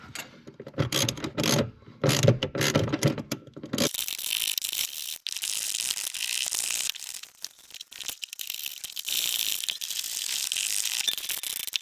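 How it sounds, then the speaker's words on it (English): A ratchet works on the bolts holding a car's front passenger seat, heard as bursts of rapid close clicking that give way to a steadier mechanical whirring rattle, with brief pauses between runs. "we just got to undo those two bolts and bolt this in there"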